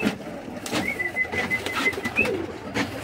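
More than a dozen pigeons at a pigeon show coo softly and repeatedly nearby, low throaty calls overlapping in a loose rhythm, with faint background rustling.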